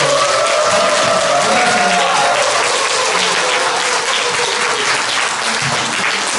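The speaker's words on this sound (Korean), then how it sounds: "우리 뜨거운 박수로 환영해 주시고" Church audience at a Methodist service clapping loudly to welcome a guest speaker, dense continuous applause from a large crowd that holds steady throughout.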